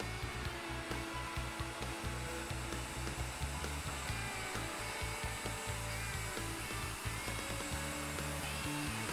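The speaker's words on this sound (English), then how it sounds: "Plunge the router and route the first tenon." A plunge router cuts a tenon on a Leigh FMT mortise and tenon jig, a loud continuous high-speed motor whine with rough, pulsing cutting noise as the bit climbs around the wood, close up and steady throughout.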